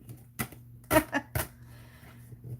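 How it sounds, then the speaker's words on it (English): Scissors snip through tag paper in a few sharp, close cuts, three distinct clicks spaced under half a second apart, followed by a faint rustle and a low steady background hum. "I'm going to use scissors, but these are really awesome. And I'm just going to cut that out."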